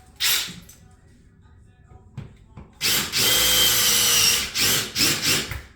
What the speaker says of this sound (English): I use just my regular Phillips to drill a hole into the wall